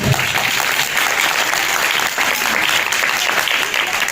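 An audience at a church ministry gathering applauds steadily, a dense even wash of clapping hands that holds at a constant level throughout with no pauses.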